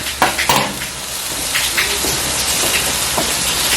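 A ham steak sizzles on a Blackstone griddle, a loud, close, continuous hiss and crackle, with a few scraping clatters near the start.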